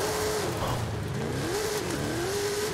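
A Mercedes-AMG 6x6 engine revs loudly while the vehicle drives, a continuous throaty roar whose pitch rises and falls with the throttle.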